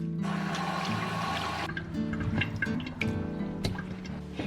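Tap water pouring into a bowl of frozen Sichuan pork ribs to soak and thaw, a loud close gushing fill that cuts off partway, followed by drips, trickles and light clinks.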